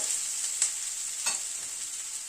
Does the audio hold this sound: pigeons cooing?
no